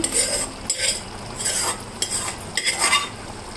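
Gongura leaves being stirred into mutton keema in a pan, with a spoon scraping and clinking against the metal in uneven strokes, close up and fairly loud, with no speech.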